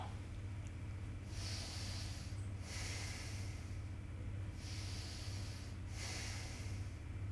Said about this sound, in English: and then breathe in and breathe out